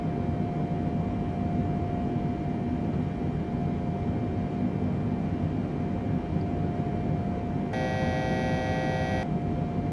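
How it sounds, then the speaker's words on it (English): A short electronic alert tone sounds in a Salty Simulations 747 flight simulator as it nears its set altitude. It rings for about a second and a half near the end, over a steady cockpit hum. "there's the altitude warning that we are about to reach our altitude"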